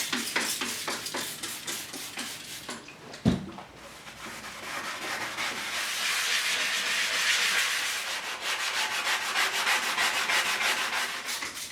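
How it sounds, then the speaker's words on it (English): A vehicle tail panel gets a final sanding before paint, first with quick rhythmic back-and-forth rubbing strokes, then a brief thump, followed by a steady, continuous close-up abrasive scrubbing. "That'll be a final rub down before paint."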